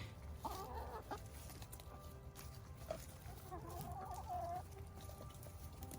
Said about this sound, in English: You can hear all the scratching and clucking and quacking around me.